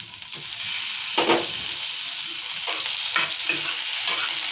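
Chopped tomatoes fry in oil alongside chillies, onions, coriander and mint, giving a steady close sizzle broken by a few sharper stirring scrapes, with no one speaking.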